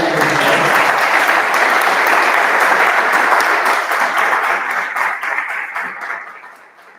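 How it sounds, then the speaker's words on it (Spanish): A church congregation gives a welcoming round of applause for a newcomer, dense clapping that holds steady and then thins out and fades over the last seconds. "vamos a darle un aplauso de bienvenida a ella"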